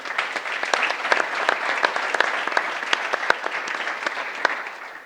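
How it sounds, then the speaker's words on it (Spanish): An audience applauds at a leadership talk on soft skills, with dense, even clapping from a full room that holds steady for several seconds and tapers slightly at the end. "De nuevo, muchas gracias y un aplauso para la entidad."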